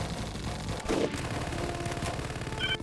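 In the video game Full Spectrum Warrior, heavy gunfire rattles in dense, continuous bursts of shots with a thump or two mixed in, loud and busy throughout.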